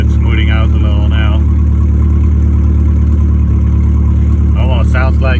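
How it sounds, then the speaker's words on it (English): A Mercedes 240D W123 diesel idles loudly and steadily right up close, a constant low clattering rumble with a possible exhaust fault, while someone talks over it at the start and end. "Almost sounds like the exhaust isn't hooked up right or something. It sounds pretty loud."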